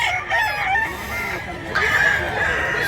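Rooster crowing at a Filipino fowl sale, with long drawn calls rising over a steady outdoor background and a second crow starting near the end of the clip, fairly close and loud, with faint people's voices mixed in.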